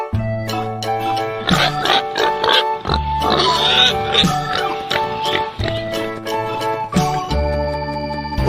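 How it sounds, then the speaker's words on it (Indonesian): A farm pig grunting and oinking in repeated loud, close bursts throughout, set over a bouncy children's music backing. "Babi."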